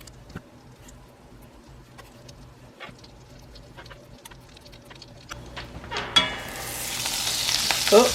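Butter heating in a pan for a roux, faint ticks and pops at first that swell into a louder, continuous sizzle toward the end, with no voices.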